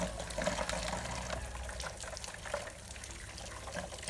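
Aloe vera leaves are washed under running water, with a steady close trickle and splashing from a tap and no voices.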